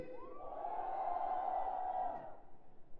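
A crowd at a cosplay event cheers and whoops together in one sustained swell of voices that fades after a few seconds.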